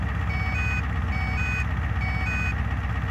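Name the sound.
oil burner fuel pump pressure warning beeping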